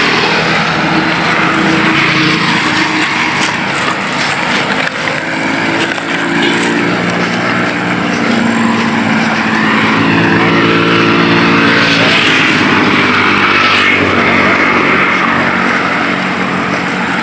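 A motorcycle engine roars loudly and steadily close by on a road, a rough, continuous buzzing drone that fills the whole stretch with no pause.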